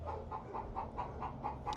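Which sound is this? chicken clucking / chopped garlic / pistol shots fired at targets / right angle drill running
chicken clucking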